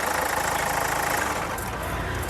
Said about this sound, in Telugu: సింగిల్ సెల్ఫ్లో కార్ స్టార్ట్ అవుతుంది ఎటువంటి స్టార్టింగ్ ట్రబుల్ అయితే లేదండి